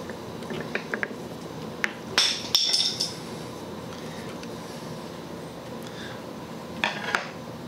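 Small metal hinges are worked free from an antique Singer treadle sewing machine, making sparse clinks and light taps, with a short bright metallic rattle in the middle and quieter knocks near the end, over a steady low hum.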